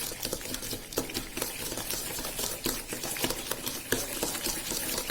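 Hung curd being stirred into carrot cake batter in a bowl, a steady soft scraping and sloshing of a spoon through thick mixture, close and continuous with no talking.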